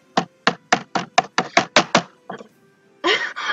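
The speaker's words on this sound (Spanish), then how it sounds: "Ya que a muchos les gusta el sonido del teclado, así que escuchen." Hard, sharp keystrokes on a computer keyboard: about nine rapid loud clacks in a rough rhythm, a couple of softer taps, then a brief louder flurry of keys near the end, close and with no talking.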